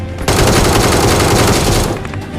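Loud, close automatic gunfire in the BGMI mobile battle game, a sustained rapid burst lasting about two seconds before cutting off, with no talk.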